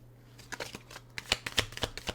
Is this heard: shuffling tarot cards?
yes